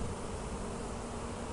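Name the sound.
honeybee swarm buzzing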